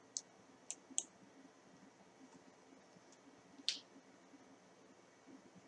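Sharp computer mouse clicks in a quiet room: a quick run of three near 0.2 to 1 seconds, then a faint one and a louder single click near 3.7 seconds, over a low background hum.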